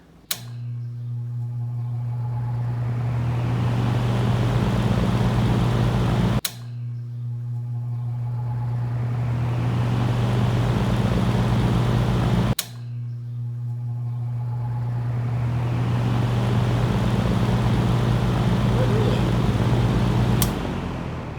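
A vintage Lakewood box fan starts up three times in a row, each start a click followed by a steady low hum and a broad whoosh of moving air, close and fairly loud.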